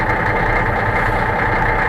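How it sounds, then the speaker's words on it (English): Rear engine of a heavy earthmoving scraper idling in the cold, a steady, loud, low diesel rumble with constant vibration and no other sounds over it. "this is the rear engine in this other scraper"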